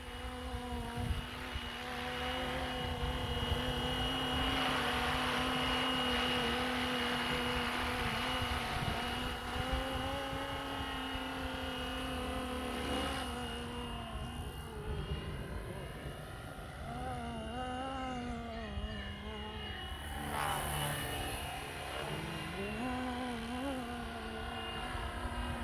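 A Flywing Bell 206 RC helicopter flying in a light breeze, its steady high rotor whine and motor drone shifting in pitch as it passes and maneuvers, fairly close and continuous.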